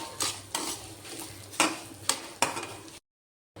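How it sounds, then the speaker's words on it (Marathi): Dry fruits being roasted with semolina (rava) in a pan for lapshi, heard as a few sharp, close scrapes and clinks of a spoon against the pan over a faint low hum, then silence. "आता ह्याच्यात मी ड्रायफ्रूट टाकते आणि थोडं मी त्याला भाजून घेते"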